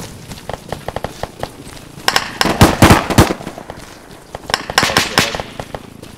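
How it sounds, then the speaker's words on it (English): Grenades explode in a team-based military shooter game: clusters of sharp, loud bangs and crackling bursts that rise to a dense peak midway, then return in a second volley. "We got grenades incoming."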